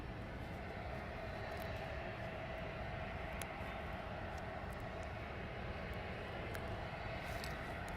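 Aircraft taxiing at East Midlands Airport at night, a steady, fairly loud broadband engine roar with a constant hum that holds throughout, with no talking.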